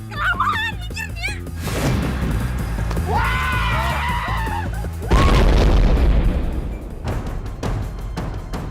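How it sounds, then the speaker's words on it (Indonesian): A loud boom bursts out amid a chaotic mix of barking dogs, shouting voices and screams, with deep rumbling and crackling debris afterward. "Suara ledakan apa itu?"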